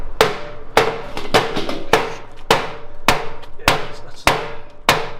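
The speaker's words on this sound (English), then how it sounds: "we've had to hammer on a slightly smaller socket, and Adam's getting the last one out now" Metal hammer blows on a slightly smaller socket being driven onto a crusty, seized nut while stripping down a crashed FD RX7, about nine sharp, ringing strikes in an uneven rhythm, loud and close.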